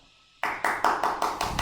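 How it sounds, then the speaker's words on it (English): Classroom applause: a group claps in a burst of about six sharp, even beats that begin after a moment of near silence, close and moderately loud. "Show of applause."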